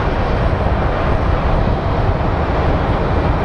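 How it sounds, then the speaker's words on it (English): A small Airbus airliner arriving from Boise at Phoenix Sky Harbor International Airport, a steady, loud broadband engine roar with no breaks, heard alone with no talking. "let's go take a look at our little Airbus coming in from Boise"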